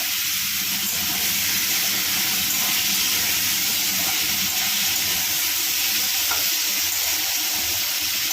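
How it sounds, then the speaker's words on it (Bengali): Prawns frying in hot oil in a wok give a constant loud hiss and sizzle, steady and close with no pauses. "চিংড়ি মাছগুলো ভেজে নেব।"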